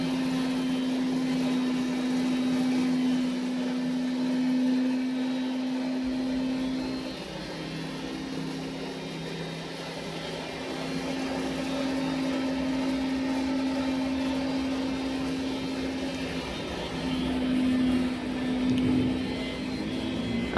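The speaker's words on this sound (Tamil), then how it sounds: "நீங்கள் அரைக்கிற சில்லி இந்த மிஷினில் இருக்கிற ஒரு ஏர் செக்ஷன் வழியாக ப்ளோயருக்கு போயிடும்" A 10 hp mild steel hammer mill chilli cutter grinds chillies with a steady, loud mechanical whine and a constant low hum. It runs evenly for about twenty seconds with no voices.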